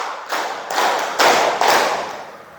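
A class of students claps in unison on a teacher's command, giving five loud, even group claps spaced about half a second apart, each a broad slap that fades slowly, with no talking.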